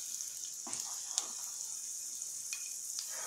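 Vegetables, cabbage with eggplant, frying in a pan give a steady faint sizzle with a few sharper crackles and pops, heard alone with no talk.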